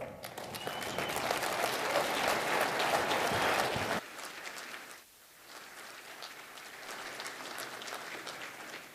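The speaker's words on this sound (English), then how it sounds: "Give a thunderous round of applause for Mr." Audience applause rings out at an economic development council annual meeting for Bob Warner, loud and dense at first, then dropping abruptly to quieter, thinner clapping that continues to the end.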